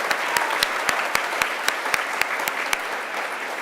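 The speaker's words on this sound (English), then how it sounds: "Let's give them a round of applause." Applause from a crowd at a 6th grade awards ceremony, steady clapping throughout with a few sharper claps standing out.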